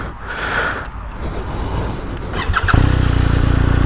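A motorcycle fitted with a Remus exhaust fires up nearby, moving from an idle-like murmur into a loud, steady running note after the start, with some wind buffeting across the microphone.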